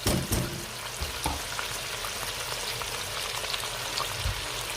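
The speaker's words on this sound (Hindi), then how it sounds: "मैं थोड़ा सा इसको और गोल्डन ब्राउन कर लेता हूँ।" Chicken frying in a karahi until golden brown, a steady dense sizzle with scattered crackles and pops throughout, close and fairly loud with no talking.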